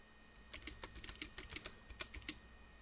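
Clicking computer keyboard keys used to adjust PWM color mixing of an LED on an Arduino setup, a quick irregular run of sharp, close taps and clacks, fairly quiet, with no talking.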